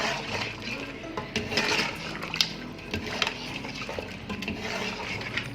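Mutton aloo gosht curry stirred in a pot over high heat: a spoon scrapes and clinks against the metal while the contents sizzle and shift, steady close-up stirring with no talking.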